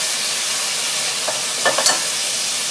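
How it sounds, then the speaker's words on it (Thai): Shrimp tipped into a hot pan with white soy sauce and sugar, giving a steady close sizzle with a few louder bursts and scrapes of stirring near the end. "ใส่กุ้งเข้าลงไปเลยค่ะ"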